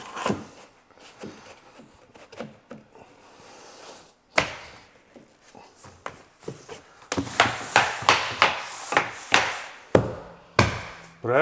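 Repeated sharp taps of a plank hammer seating vinyl plank flooring beside kitchen cabinets, a sparse irregular start giving way to a steady run of loud, close knocks.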